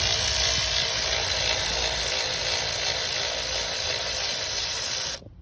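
Screws being removed from a 2012 Honda Accord during a spark plug replacement, heard as a loud, continuous mechanical whirring and ratcheting close by that runs steadily before cutting off abruptly at the end, with no speech.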